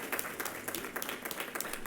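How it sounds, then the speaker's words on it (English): An audience at a Behçet's UK conference gives a round of applause, steady scattered clapping from many hands that carries on for the whole short stretch at moderate loudness. "If everyone, I think, could give a round of applause for the question."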